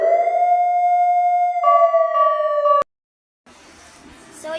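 A loud wailing fire truck siren holds a steady tone, then cuts off abruptly; after a short silence, background noise and a voice begin.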